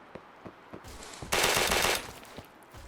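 Full-auto gunfire in the game Those Who Remain: a few spaced single shots, then a loud, continuous burst of about half a second, followed by more scattered shots.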